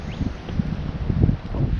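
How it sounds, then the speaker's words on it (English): Strong wind at a lakeside fishing spot buffets the microphone in uneven gusts, a low rumbling roar with no voices. "it's really windy"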